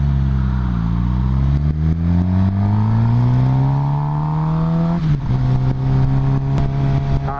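A Dodge Hellcat engine revs loud and close, its pitch climbing steadily for several seconds before dropping back to a lower, steady drone.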